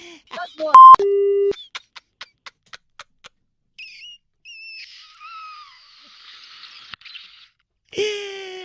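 A disconnected phone line beeps, then a series of short, evenly spaced tones sounds, followed by sparse faint chirps and a final burst.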